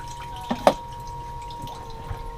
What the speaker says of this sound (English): Yeah, we got more water coming in from somewhere.